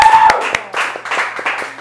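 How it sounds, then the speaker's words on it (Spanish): An audience claps on a Spanish-language talk show in a short, sparse burst of a few people, with sharp hand claps scattered over a murmur of voices. "Ay, un aplauso, no, para que se motive desde ya."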